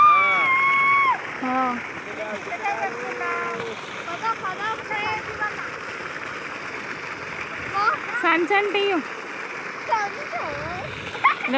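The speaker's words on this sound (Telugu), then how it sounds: "బోరేసిరు వాటర్ పడుతున్నాయి" Water from a farm borewell gushes and splashes in a steady broadband rush, with people talking over it throughout.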